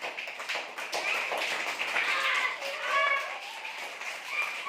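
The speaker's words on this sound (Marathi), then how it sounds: "सगळ्यांनी टाळ्या वाजवा जोरात टाळ्या वाजवा" Village primary school children clap along in a classroom, a fast scattered patter of many small hands, fairly close, mixed with chatter and high excited voices.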